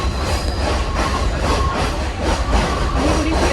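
A train running along its rails produces a loud, continuous rumble with steady rhythmic wheel clatter, heard close from on board with no voices.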